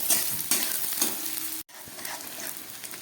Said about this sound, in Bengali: পেঁয়াজটাকে একটু ভালো করে ভেজে নিচ্ছি।